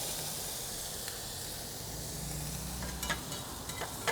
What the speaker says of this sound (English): let's get some bacon into the lodge. Let's start to render out that fat and crisp up the bacon.